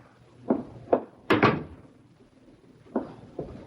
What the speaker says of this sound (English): Someone's at my door.